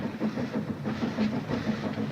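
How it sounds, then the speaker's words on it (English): Steady rumble and clatter of a train rolling toward a small-town station, continuous and fairly close, with a low rhythmic clickety-clack running throughout and no talk. "Train's coming, Mom. Just heard her whistle for the station."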